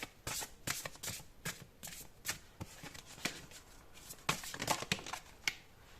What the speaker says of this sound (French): Alors, on va prendre deux autres cartes.